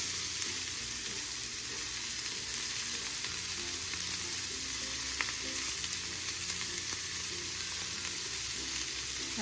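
Egg cooking on a sizzling plate of Kapampangan pork sisig, giving a loud, steady, continuous frying hiss and crackle with no voices.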